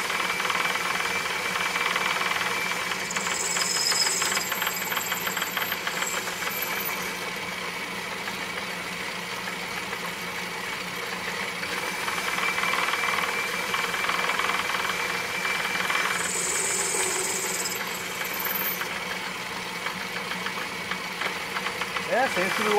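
An Atlas metal lathe running with its half nut engaged, a continuous close motor hum and mechanical whir with a rhythmic knocking undertone, steady throughout.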